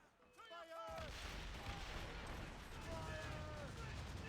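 Ship cannons firing in the video game Assassin's Creed Rogue, a sudden loud booming volley that rolls on as a sustained roar of broadside fire, with brief game voices at the start.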